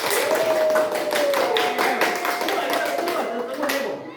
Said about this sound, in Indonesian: kita tepuk tangannya